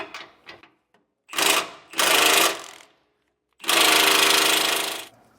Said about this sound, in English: I did have to switch over to our air tools instead, just to have enough strength to actually break that free